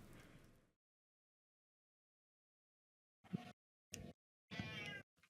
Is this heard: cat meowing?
yes